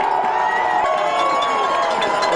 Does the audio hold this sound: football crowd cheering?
yes